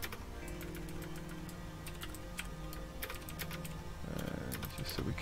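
Quiet, fast computer keyboard typing comes in irregular bursts of light clicks over a low background hum, with a brief louder rustle near the end.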